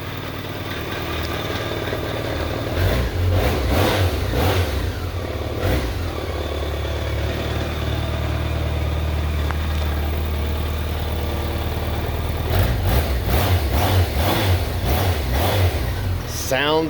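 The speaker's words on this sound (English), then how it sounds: "Smooth running, not really much to think about, kind of uneventful in terms of any of that with the motor." A 2000 BMW K1200RS sport touring motorcycle engine runs steadily and smoothly at a low, even idle, with a few brief rev swells near the start and end, close and continuous throughout.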